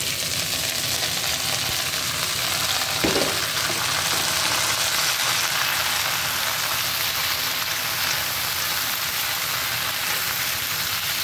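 Okra frying in a pan makes a dense, even sizzle that hisses on without a break, close and fairly loud, with no voices.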